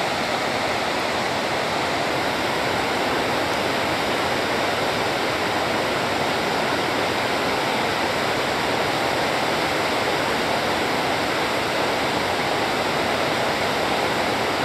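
A roadside river waterfall roars steadily and loudly, a dense unbroken rush of falling water filling the whole stretch with no voices over it.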